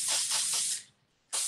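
An aerosol hair texturizing spray is sprayed onto hair in a close, bright hiss lasting nearly a second, followed by a short pause and the start of a second burst, with no talking.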